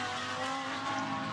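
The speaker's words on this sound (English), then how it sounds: "a dark grey and black car coming down the start finish straight" A GT race car runs down the start-finish straight at Barcelona during GT World Challenge Europe pre-qualifying, a steady, sustained engine roar with tyre noise that holds at a fairly even level throughout, with no voices.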